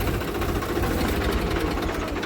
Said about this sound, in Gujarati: તો ટ્રેક્ટર બંધ કરી દો અનિલભાઈ